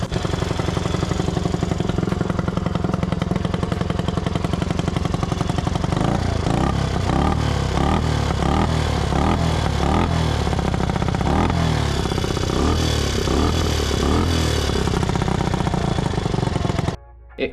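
A rare Honda motorcycle engine idles roughly and loudly up close, with a steady low drone that turns into an uneven, lumpy, stumbling rhythm about six seconds in and then cuts out at the very end.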